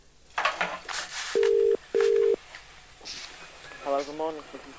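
Two loud steady telephone tone bursts follow a hang-up on a radio phone-in call, each under a second with a short gap, set among talk from a voice on the line.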